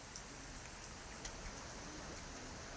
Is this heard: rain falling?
yes